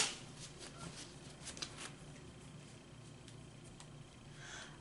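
A deck of cards gets a vigorous shuffle, a close, crisp run of riffling flutters and soft slaps over a few seconds, with no talking.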